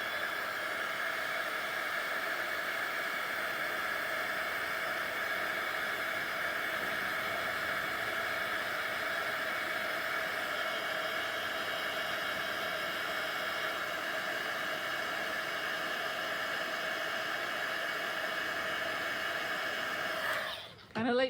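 A heat embossing tool blows hot air in a continuous, even whooshing hiss with a steady motor whine, close and unchanging for about twenty seconds before cutting off abruptly at the end.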